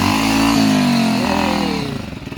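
A motorcycle engine revs loud and close, holding a high whine before the pitch drops and settles into a slower, lumpy throb.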